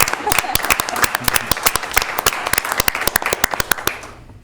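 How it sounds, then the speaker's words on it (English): Applause breaks out at a county board of commissioners meeting, a small group clapping with sharp, uneven hand claps that fade out toward the end. "Can we clap? Come on. Yeah. I want to clap."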